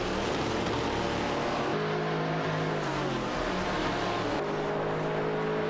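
In an AI racing video game, race cars including a Koenigsegg CCGT and a Maserati MC12 GT1 produce a steady, dense engine roar that swells slightly as cars pass, without any voices.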